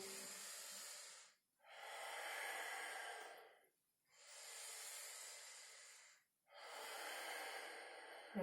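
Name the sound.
yoga breathing, exhaling and inhaling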